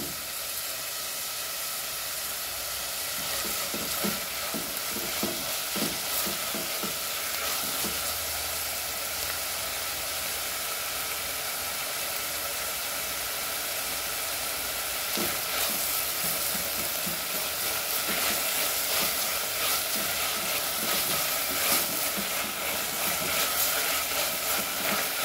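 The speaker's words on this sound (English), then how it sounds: "Now let's fry this." Chicken mince fries in a pan, a steady sizzle running throughout with intermittent scraping and stirring clatter as it is turned; no talking.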